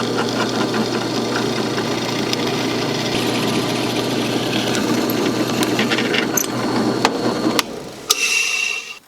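A drill runs steadily through metal for a workbench wheel lift, a continuous whirring machine drone close by that holds for about eight seconds before cutting off, followed by a brief clatter.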